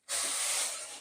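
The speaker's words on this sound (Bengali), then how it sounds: "এই যে কষে নিচ্ছি মশলা" Whole spices frying in hot oil in a pan while fish curry masala is being cooked, giving a loud, steady hiss that starts abruptly and holds close up, fading slightly toward the end.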